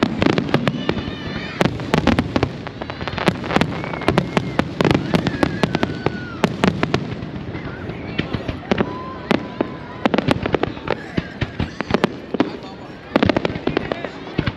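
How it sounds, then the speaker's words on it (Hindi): Fireworks celebrating Bahrain's 51st National Day burst in rapid, irregular volleys of crackling pops and deeper thuds, loud and sustained, while onlookers chatter underneath throughout. "बहरीन नेशनल डे की आतिशबाजी शुरू हो गई है।"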